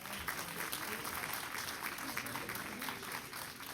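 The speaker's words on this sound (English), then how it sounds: "Let's give all of our kids another round of applause." Audience at a Pearland school district board meeting applauds students, with a continuous, fairly faint wash of clapping from a roomful of people, heard from a distance and without pause.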